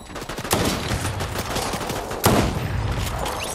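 Rapid bursts of gunfire in Fortnite, dense overlapping shots with two sharper cracks standing out, loud and close with no talking.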